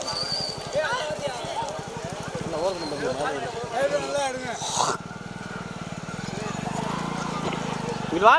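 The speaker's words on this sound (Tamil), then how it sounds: "மாடு வருது" Cattle approach with a rapid, rhythmic clatter of hooves close by in rural Thattanvayal, while people call out loudly over the trampling.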